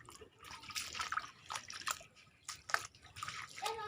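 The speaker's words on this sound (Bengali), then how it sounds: "এই যে আমি যাচ্ছি রেশন ধরতে, জল পেরিয়ে যাচ্ছি।" Someone wades through flood water on foot, making irregular splashes and sloshes close by, with quiet gaps between the strides.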